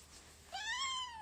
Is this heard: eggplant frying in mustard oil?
no